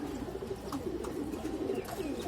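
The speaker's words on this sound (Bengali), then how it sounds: "এইগুলো আমার কালেকশনে কবুতর" Pigeons in a loft give repeated low, throaty coos, moderately close and soft, in a steady rolling rhythm.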